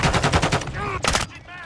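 Rapid automatic gunfire from a Call of Duty Modern Warfare 2 team deathmatch match, loud bursts of repeated shots broken by short gaps, with in-game radio voice chatter over part of it.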